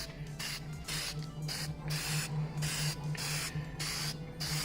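Aerosol spray paint hisses in a series of short bursts over bare trailer brake iron, applied in light coats from about 7 to 10 inches away, with steady low hum beneath the close, loud pulses.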